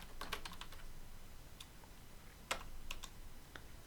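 Light, sparse keystrokes on a computer keyboard, a few quick clicks clustered together with pauses between, quiet and close in a still room.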